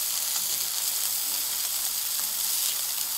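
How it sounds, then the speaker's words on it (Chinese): Beef that is not fully thawed fries on a grill pan, giving a steady close-up sizzle and crackle that continues evenly throughout with no voices. "你看这个牛肉啊，它这个煎完之后，它的油脂就留在这烤盘上"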